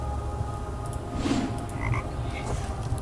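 A frog croaks a few times in the Raincliff video game, short clear calls over a steady low ambient hum.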